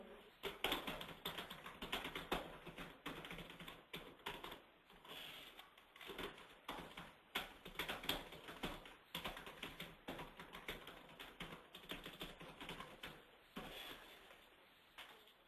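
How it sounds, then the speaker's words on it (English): Someone types on a computer keyboard while entering data into membership software. Quiet key clicks come in quick, uneven bursts with short pauses, and no voices are heard. "you can type one in here"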